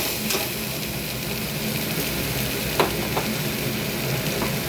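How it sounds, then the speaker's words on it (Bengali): Spice paste with turmeric, salt, cumin, coriander, yogurt and kasuri methi sizzles steadily in a pan for alur dom, a continuous close frying hiss with a faint clink or two. "মশলাটা আমার ভালো করে কষানো হয়ে গেছে"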